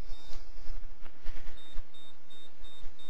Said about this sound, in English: And it beeps and starts blinking